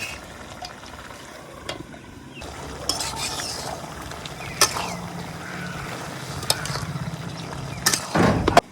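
A lid goes onto a cooking pot of bottle gourd, fish and lentil dumplings, with a few sharp metallic clinks and knocks over a low simmering hiss.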